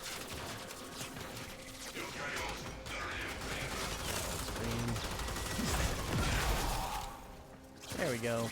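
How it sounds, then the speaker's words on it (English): Enemy gunfire in the video game Warframe, a dense stream of shots and mechanical clatter mixed with game effects and music, steady and fairly loud throughout. "All the gunfire aimed in my direction"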